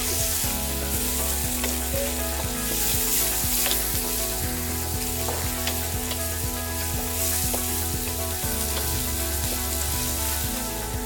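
Food frying in a pan, a continuous crackling sizzle with occasional stirring scrapes, steady and close throughout.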